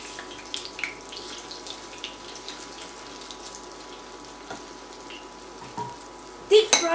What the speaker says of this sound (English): I call this pan fry